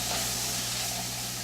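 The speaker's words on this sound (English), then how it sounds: "We're going to saute these spices just a little bit." Spices including nutmeg and pepper sautéing in a pan, a steady close sizzling hiss over a low hum, constant and fairly loud through the short stretch.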